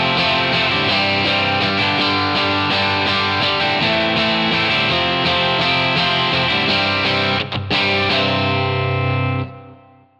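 Electric guitar through a Line 6 Helix AC30 Fawn amp model with crunch drive, playing steady strummed rhythm chords with a gritty edge, loud and alone, with a brief cut near the end before ringing out.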